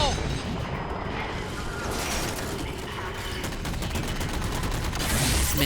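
Missile explosions and heavy weapons fire in the Halo 4 campaign, a dense continuous barrage of booms and rattling blasts, loud and sustained throughout with shouting voices faintly in the mix.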